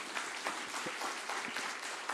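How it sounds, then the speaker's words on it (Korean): A church congregation at an autumn evening revival service claps in a steady, dense patter that stays even throughout, sounding somewhat distant and moderately quiet. "오늘 주님 영접하신 분들 박수로 한번 축복합시다"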